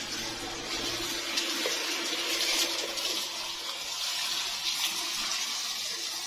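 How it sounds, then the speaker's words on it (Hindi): Water pours steadily onto a potted araucaria plant, a continuous close splashing and trickling that stays even throughout with no talk. "इसको भी पानी मिल रहा है"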